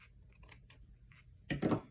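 Scissors snip through a length of lace for a lunch bag junk journal, a few soft, close snips followed by a louder crisp cut near the end, with no talking.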